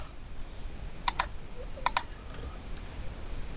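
An email address is typed on a computer keyboard at a login form: a few sharp, quiet keystrokes in two small clusters over a soft background hiss.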